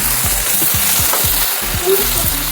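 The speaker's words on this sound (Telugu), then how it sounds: "చింత చిగురు వేసినాం కదా ఒక్కసారి కూరని కలుపుకుందాం" Tamarind leaf and dried fish curry sizzling loudly in a pan while being stirred, with a steady hiss of frying throughout and rhythmic scraping strokes of the spoon about twice a second.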